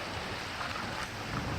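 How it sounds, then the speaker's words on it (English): Water from a 50-foot pondless waterfall in Apple Valley with a St. Francis feature pours and splashes in a steady, even rush, moderately loud with no voices. "This is a pondless waterfall in Apple Valley featuring St. Francis"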